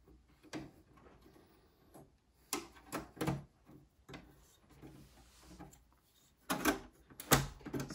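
Plastic latch on an Acer Aspire computer case being fiddled with and snapped shut, scattered clicks and knocks with a few sharper snaps toward the end, close and fairly quiet, with no talking.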